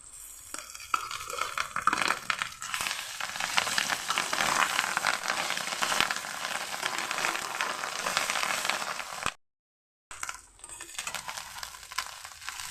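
Fish roe frying in a pan with turmeric and salt after aubergine, giving a steady close sizzle with stirring scrapes that cuts out briefly near the end.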